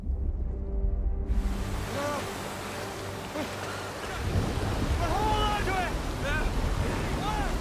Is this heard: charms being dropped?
no